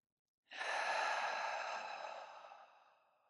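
One long, deep exhale during a yoga pose in a studio vinyasa flow, close and audible, rising suddenly and slowly fading away with no talking.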